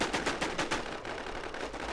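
Suppressed gunfire in the zombie survival game WarZ, played on the DeathmatchZ emulator: a quick string of soft, muffled shots in a rapid rhythm, fairly faint and at a distance, fading into a low background.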